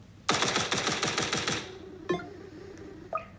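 Rapid automatic gunfire from a level 1 tower in the Roblox game Tower Defense Simulator, a quick burst of about ten evenly spaced shots followed by two single sharp clicks, loud and close with no talk.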